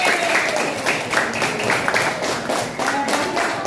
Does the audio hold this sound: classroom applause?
yes